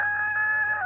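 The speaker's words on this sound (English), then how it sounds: "The old Jewel says they want to be in the chat, the chickens." A rooster crows in a chicken coop, a sustained, loud, slightly wavering call held for about a second over low background hum.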